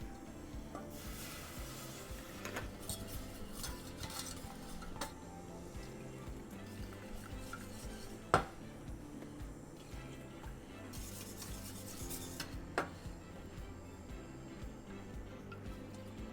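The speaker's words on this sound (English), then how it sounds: "We keep stirring and mixing." Butter, flour and milk stirred together in a pan for a béchamel sauce, giving a steady soft scraping and stirring texture with occasional metallic clinks of utensil against pan, no voices.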